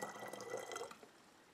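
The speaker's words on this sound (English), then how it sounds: "So I'm going to warm it up by adding some more water to the mix here." Water poured into a container holding a cold alum mordant mix, a short burst of splashing liquid that fades out after about a second.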